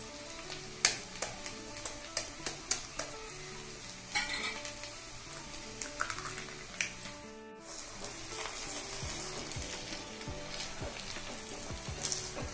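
Egg curry with cauliflower is stirred in a hot pan, a spoon scraping and clinking against the metal at an irregular pace over a steady low sizzle, with no voices.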